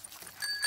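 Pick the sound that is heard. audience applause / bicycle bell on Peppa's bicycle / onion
bicycle bell on Peppa's bicycle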